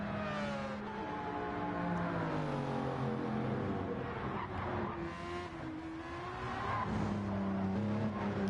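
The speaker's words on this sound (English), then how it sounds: "Starting to really monster those curbs in the Supra, almost too much through the second part of the Vidal." A Toyota Supra Gr.3 race car in Gran Turismo 7 laps the Nurburgring GP, its engine wailing through rising gear changes and dipping under braking, with tyre squeal over kerbs, steady and prominent without voices.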